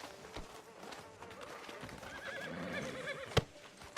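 In Red Dead Redemption 2, a horse's hooves clop quickly while it gives a short whinny; the sounds are close and moderately loud, with a sharp hoof strike near the end of the brief moment.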